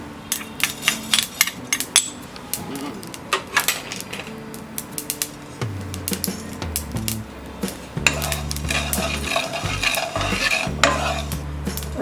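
Mustard seeds and cumin dry-roasting in a pan without oil, a dense run of sharp crackling pops and stirring clinks close by, growing into a fuller sizzle and scraping, no talk.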